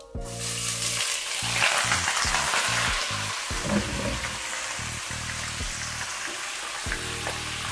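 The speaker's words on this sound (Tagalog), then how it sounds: "Unahin ko munang i-saute yung baka." Beef sautéing in cooking oil in a pan, a steady close sizzle with scraping stirs and utensil knocks throughout, no voices.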